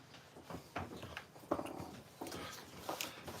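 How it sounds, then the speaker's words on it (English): A dog whimpers and whines in a room, soft repeated whines coming in short bursts over a couple of seconds, fairly close, with no talk. "Dog trying to be in the footage."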